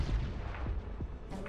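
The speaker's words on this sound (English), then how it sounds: "Fire the missile." Missile launch and explosion in the video game Desecrators, a dense rumbling boom with sharp low thuds and crackle that fills the short stretch loudly, with no talk over it.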